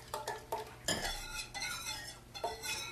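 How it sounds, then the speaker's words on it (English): A spoon stirs ingredients into vegetable broth in a pot, producing a few distinct scraping and clinking strokes against the pot, close and moderately quiet. "Okay, so now I'll just stir this in."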